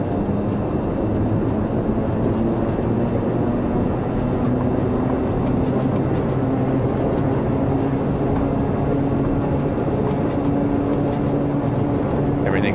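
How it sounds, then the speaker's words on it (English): A Dornier Seastar seaplane in Microsoft Flight Simulator 2024 takes off from water, with a steady, loud engine drone and rushing roar that holds throughout with no break. "I'm going to bring some flaps in and I'm going to take off."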